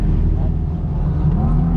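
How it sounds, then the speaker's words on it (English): Turbo Miata engine with an exhaust leak, heard from inside the car during a ride at a drift event: a steady low droning rumble with a rough, uneven texture, loud and continuous. "I think you were right about the exhaust leak."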